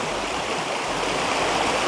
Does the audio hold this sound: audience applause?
no